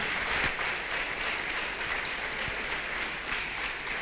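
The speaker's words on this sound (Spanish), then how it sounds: "Le damos un aplauso." A church congregation applauds after a sermon, a steady, moderately distant wash of many hands clapping with a few sharper individual claps, quieter and continuous throughout.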